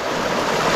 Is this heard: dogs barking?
no